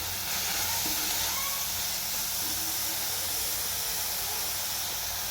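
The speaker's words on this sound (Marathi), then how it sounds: "मोड आलेली मटकी तेलात थोडंसं परतून घ्यायचं" Sprouted moth beans sauté in oil with onion, coconut and garlic, giving a steady broadband hiss that stays even throughout with no talking.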